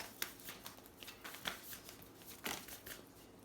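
Moonology oracle card deck being shuffled, close soft riffling and flicking with irregular sharper snaps, quiet and alone.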